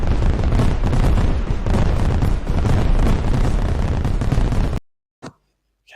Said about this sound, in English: Shall we'll give some fireworks there quickly